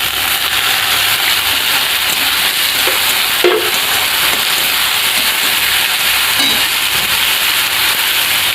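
Washed red lentils go into a pan of fried onions, setting off a steady hiss and sizzle that runs throughout, with a brief louder crackle midway, heard close with no talking.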